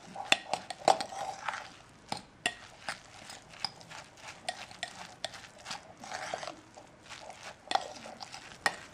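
Potato pancake batter being mixed in a bowl, with repeated wet scraping and clicking of a utensil against the bowl in an uneven rhythm, close and moderately quiet.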